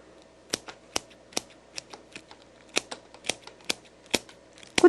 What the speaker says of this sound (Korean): 된 다음에 다시 줄기 부분을 잘라줍니다. 역시 사선으로 잘라줘야 되겠죠.